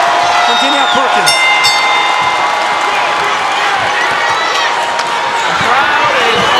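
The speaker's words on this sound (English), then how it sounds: "The crowd is on their feet for the 10th and final round" A boxing arena crowd roars and cheers steadily throughout a women's title fight at Claressa Shields' homecoming bout against Danielle Perkins, with an announcer talking over the loud, continuous noise.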